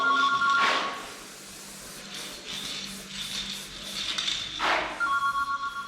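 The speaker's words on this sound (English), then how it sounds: "Excuse the phone ringing." A telephone rings in a workshop, two bright trilling bursts separated by a few seconds, fairly faint with quieter rustling and background clatter in between.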